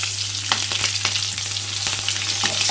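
Cumin seeds, curry leaves and three chillies frying in hot oil give a steady close sizzle with a few sharp crackles and spoon stirs, no voices.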